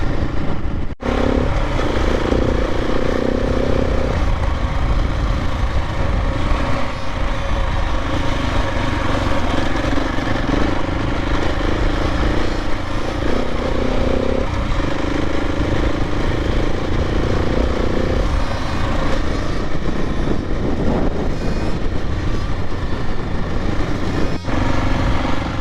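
A KTM 701 motorcycle rides an off-road connector trail, its single-cylinder engine droning steadily and loudly throughout with shifting pitch as the throttle varies, no talking over it.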